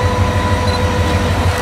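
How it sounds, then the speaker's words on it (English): The Ekspres Rakyat Timuran train being shunted to the train yard at a station on Malaysia's East Coast line, a loud steady rumble with a rhythmic low pulsing of wheels and a sustained tonal hum, close by. "the Ekspres Rakyat Timuran is shunted to the train yard for resting"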